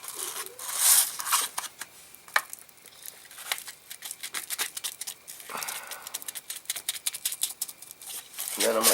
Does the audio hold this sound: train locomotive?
no